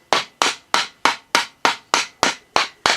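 Nine evenly spaced sharp taps of a hammer, about three per second, ring out close and clear while a small-engine governor gear is seated during a rebuild, each hit decaying quickly with no talk.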